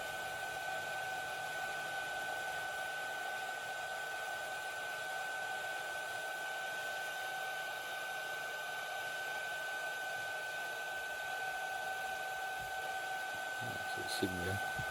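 A WAFTING portable battery-powered waist fan runs at high speed, giving a steady, even whirring hum with a constant tone throughout, close to the microphone and alone until a brief handling knock near the end.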